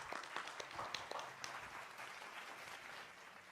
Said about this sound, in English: Let's give applause for 4th UMY Graduate and Conference.